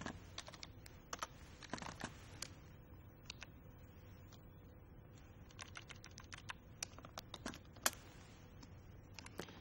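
A search query is typed on a computer keyboard as rapid, irregular clicking keystrokes, close and quiet, with brief pauses between bursts and no voices.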